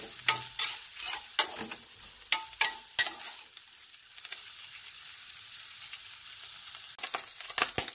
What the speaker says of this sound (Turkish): Ve tamamen suyunu çekene kadar kıymamı kavuruyorum.